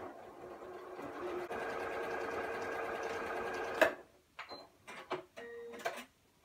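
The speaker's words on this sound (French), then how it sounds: "Donc je sais que je vais coudre à 1/4 inch." A sewing machine fitted with a quarter-inch presser foot and guide stitches a quarter-inch seam in patchwork fabric, whirring steadily at close range, then stops abruptly. A few scattered clicks and short mechanical bursts follow.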